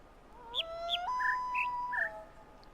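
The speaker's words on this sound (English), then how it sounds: "the bird is 5 chirps" Bird chirps in the video game The Witness: a short series of about five bright, clear chirps over a steady whistled tone, close and distinct against quiet background, no talking.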